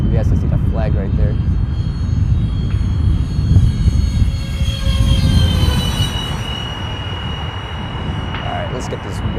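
Art-Tech F-14 radio-controlled model airplane flying on a gusty day, a thin high electric whine rising and falling as it passes, heard under steady wind buffeting with someone talking over it.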